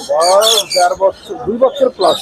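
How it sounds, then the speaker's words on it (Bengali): A male lory parrot at a busy bird market gives loud, harsh squawks in quick bursts, close by, with market voices mixed in around the calls. "এখানে একটি খুব সুন্দর একটি লরি দেখতে পাচ্ছি এটি ছেলে নামে ছেলে পাখি"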